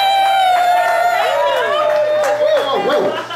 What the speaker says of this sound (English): Don't cheer too hard